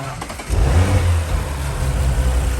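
An Audi RS5 car engine fitted with an Eventuri intake revs up sharply from a quiet start into a loud, sustained deep roar that holds and wavers slightly, close by.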